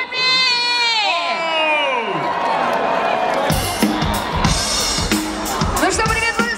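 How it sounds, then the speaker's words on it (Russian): An outdoor crowd on Palace Square at the Scarlet Sails 2014 celebration bursts into loud applause and cheering for a band. A sliding, wailing tone comes first, then dense clapping and shouting swell for the last few seconds. "бурные аплодисменты нашему следующему артисту"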